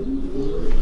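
Pigeons coo in a breeding loft, a low steady throaty hum close by and alone.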